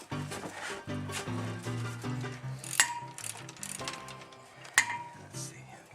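Chain wrench ratcheting as it tightens around a pipe: a run of close, quiet metallic clicks with a couple of sharper clinks, the links rattling between strokes.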